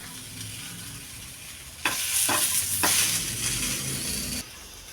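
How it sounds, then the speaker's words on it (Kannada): Onions frying in hot oil on a stovetop until fully brown, a soft sizzle that swells into a louder crackling burst with stirring scrapes, then drops back. "ಸೊ ಫುಲ್ ಬ್ರೌನ್ ಕಲರ್ ಬರ್ತದೆ ನೋಡ್ರಿ ಈ ಥರ ನಾವು ಇದನ್ನು ಹುರ್ಕೋಬೇಕ್ರಿ"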